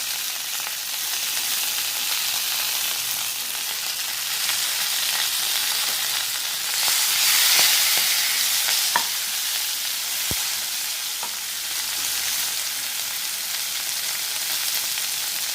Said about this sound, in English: Then we have sauteed it and it gives out a good aroma.